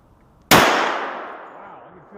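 A 10mm Liberty Civil Defense 60 grain round fired from a TNW Aero Survival rifle with a 4.6-inch barrel: one sharp, loud report with a long ringing decay.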